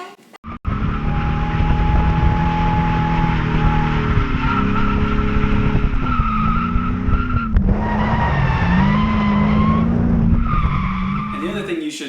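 A race car drifts in the Assetto Corsa driving simulator, its tires squealing loudly and continuously while the engine drones and shifts pitch through the slide, close and sustained.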